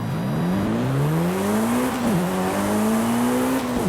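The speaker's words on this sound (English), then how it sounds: "All-wheel drive kicks in, just takes the car and launches into 5th gear into the first turn" A Mitsubishi EVO 9 in Forza Horizon 5 launches hard off the line. Its engine revs climb steadily, dip briefly at a gear change, then climb again, loud and close with a faint tire squeal underneath.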